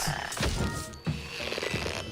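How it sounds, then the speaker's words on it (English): Frog-like creatures croak in the video game Luigi's Mansion Dark Moon, low gurgling calls repeating in quick succession, close and fairly loud over a bed of game noise. "These little frog-like things are coming out with them."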